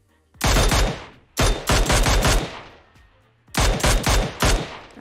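Video game shooter gunfire in three loud, close bursts of rapid shots, each lasting about a second, separated by short quiet gaps.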